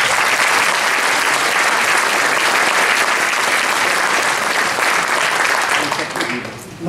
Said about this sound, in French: je pense qu'ils méritent eux aussi des applaudissements